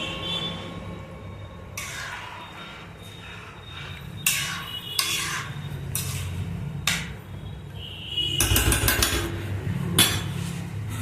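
A metal spoon scraping and clanking against a pot while green chili paste is stirred into chicken biryani, irregular knocks and clinks of varying loudness over a low background, with no talking.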